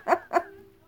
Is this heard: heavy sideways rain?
no